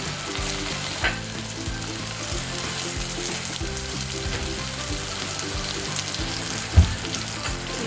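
Spices with Kashmiri chili powder fry in a pan for Chicken 65, giving a steady close sizzle with rhythmic scraping stirs and a couple of sharper utensil knocks; no one speaks.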